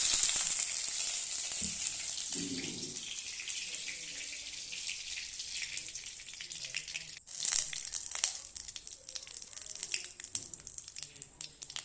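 Onion frying in oil with a bay leaf for a Tripuri-style country chicken dish gives a steady, fairly close sizzle that runs throughout, with a brief drop and a few crackling bursts partway through.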